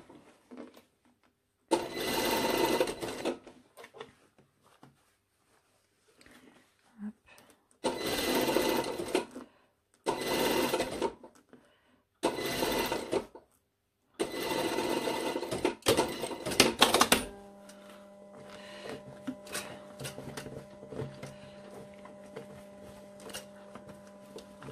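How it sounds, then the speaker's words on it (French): Sewing machine topstitching a lined jacket sleeve in several loud close bursts of rapid stitching separated by pauses, followed by a softer steady hum. "c'est pas facile de faire la surpiqûre comme ça"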